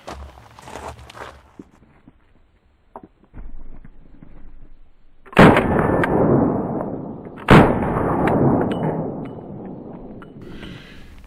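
Two loud, sharp .22 LR shots from a Hammerli 1911 pistol at an outdoor range, a few seconds apart, each followed by a ringing tail, after quieter shuffling and handling noises.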